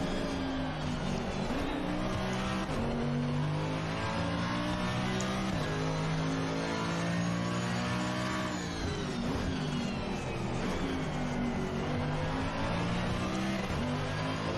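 A race car engine roars loud and close throughout, revving up and dropping through gear changes as the car brakes into and powers out of a corner on track, with steady high-pitched drone and no voices.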